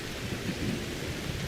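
Pouring rain and a thunderstorm in the Skyrim video game, a steady dense wash of rainfall with low rumbling thunder underneath, heard alone without any voices.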